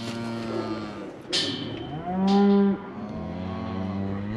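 Cows and calves on a cattle farm mooing loudly and close by, with long drawn-out overlapping moos one after another and no talking.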